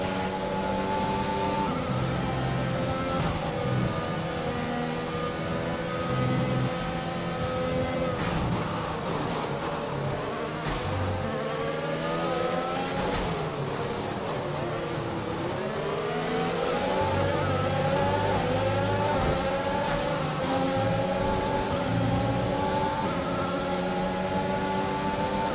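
F1 2021 race car engine drones loudly and continuously, climbing and falling in pitch as it accelerates and shifts gears, with sweeping rising tones through the whole run and no talking.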